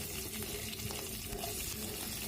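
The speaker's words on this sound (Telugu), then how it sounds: "ఆయిల్ వేడెక్కింది. పోపు దినుసులు వేసుకుందాం." Curry leaves and tempering spices frying in hot oil in a kadai for jackfruit seed curry, a steady close sizzle and crackle with no talk.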